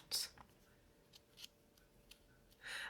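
Delicate paper cut with scissors, in a few crisp snips spaced apart with quiet pauses between them and a longer cut at the end, heard close up.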